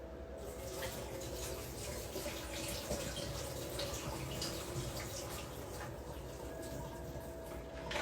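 Running tap water splashes steadily over pinto beans being rinsed, a faint continuous rushing with light droplet patter throughout.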